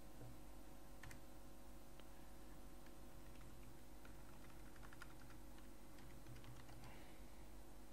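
Quiet computer keyboard typing while a jQuery drag-and-drop web page is being coded, with scattered light key clicks in irregular short bursts over a steady low hum.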